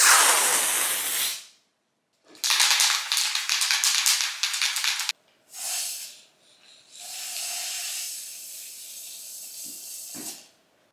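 An aerosol can of spray paint sprays in several bursts, some long and sputtering, others short, each a close, sharp hiss separated by brief pauses.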